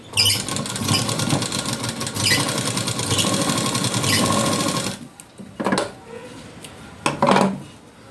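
A sewing machine stitches quarter-inch tucks into a blouse front, running in a steady fast whir for about five seconds before stopping, followed by a few brief handling clicks and knocks.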